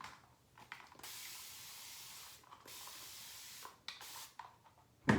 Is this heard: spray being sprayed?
yes